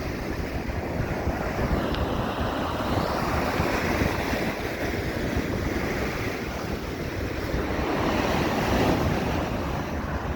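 Heavy sea waves roll and break continuously during a 9.5-metre high tide at Blackpool, a loud, dense wash of surf with steady wind rumble across the microphone and no voices.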